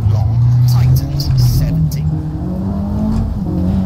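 Rally car engine in a WRC racing game holding heavy throttle through a corner, a steady loud drone that dips and climbs in pitch, with a voice talking over it throughout.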